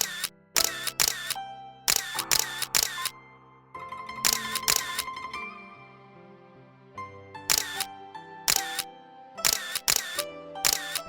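Repeated camera shutter clicks taken as selfies in the Roblox video game, sharp bursts in quick pairs and triplets over steady background game music.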